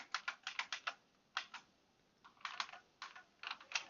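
Fingers typing on a computer keyboard in quick irregular clusters of clacking keystrokes, close and fairly quiet, with short pauses and no speech.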